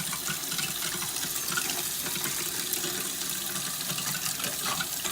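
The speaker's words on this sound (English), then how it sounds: "turn this hot water on and see what we get" Hot water runs steadily from a tap fed by a Girard tankless water heater, a constant close hiss of flowing water with no talk.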